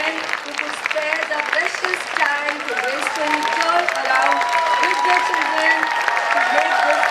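An audience at a pre-primary school annual programme in an auditorium applauds and cheers the young children's performance, steady moderately loud clapping with crowd noise and voices throughout.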